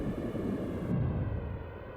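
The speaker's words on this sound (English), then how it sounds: "And here are some more explosions for you." Explosions in the 1993 SNES game Star Fox come through as a continuous rough, booming rumble that swells and fades over two seconds, heavy in the low end, with no voices.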